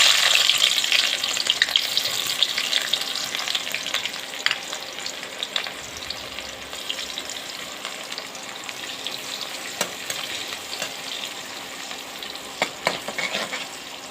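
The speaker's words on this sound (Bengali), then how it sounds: "তেল গরম হয়ে গেছে, এখন এতে পেঁয়াজ কুচিগুলো দিয়ে দিব।" Chopped onions fry in hot oil for a fish, potato and tomato curry, giving a steady dense sizzle with occasional stirring scrapes and crackles, close and continuous with no talk.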